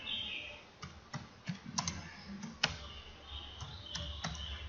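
Someone types on a computer keyboard, entering an ID number into an online attendance form: steady, faint, close key clicks in an uneven rhythm against a quiet room hum, no one speaking.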